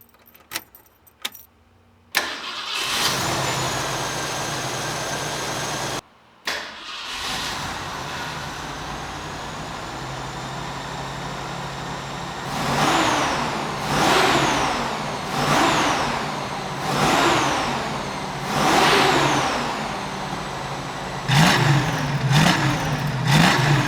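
A classic car engine starts after keys jangle and a starter cranks, settles into a steady idle, then revs repeatedly in rising and falling surges close by, with a few quick blips at the end; no talking.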